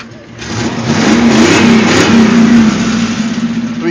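A 1990 GMC box truck with a 350 V8 engine revs up and holds a loud, steady rumble for a couple of seconds, then eases back toward idle, heard close with no talking.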